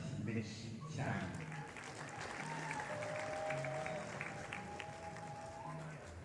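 Audience applause at a family celebration event runs as a continuous soft patter beneath voices, with people talking over it and a faint musical tone in the background.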